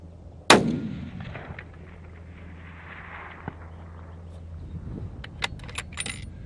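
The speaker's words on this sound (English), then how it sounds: "I'll shoot one more up there." .300 Win Mag rifle fired on a long-range shooting range: one sharp, loud report with a long decaying echo rolling away, then quiet outdoor ambience and a few faint clicks and handling noises.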